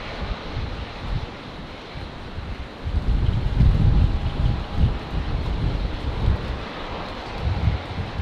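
Strong crosswind gusting at 25 knots at Brisbane Airport, roaring as loud, steady buffeting noise across the microphone, strengthening into heavier blasts partway through, with faint aircraft rumble underneath.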